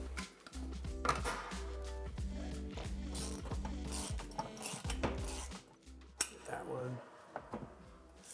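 Bolts are hand tightened on a wall mount for an 85-inch Samsung QN90A TV, with quiet metallic clicks, ratcheting and small clinks in an irregular rhythm, close by and soft.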